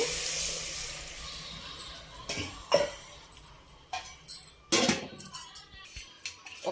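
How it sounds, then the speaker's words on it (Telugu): A glass of water is poured into a pot of frying mutton curry, giving brief splashing bursts and clinks of utensils against the pot, faint and close. "ఒక గ్లాసు వాటర్ పోసుకుందామండి."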